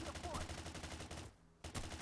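Enemy bandits firing guns at the player in a video game quest, dense rapid bursts of gunfire with a short lull before the shots resume.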